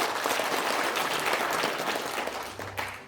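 Applause from an audience at a memorial resolution rally in a large assembly hall, a dense continuous wash of many hands clapping that fades slightly toward the end.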